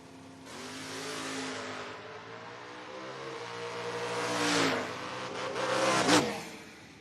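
A Camaro and a Mustang launching side by side in a footbrake drag race, engines rising from a rumble into loud, climbing revs with gear-change dips, then roaring away at close range, no talking.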